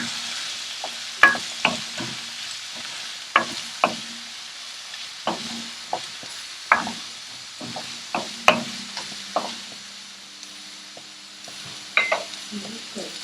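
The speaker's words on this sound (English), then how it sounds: "So these are 2 medium-sized onions finely chopped. Toss these into the oil." Finely chopped onions, about two medium ones, fry with garlic in hot oil. A steady sizzle runs throughout, broken by repeated clattering scrapes of stirring at an irregular rhythm, fairly close.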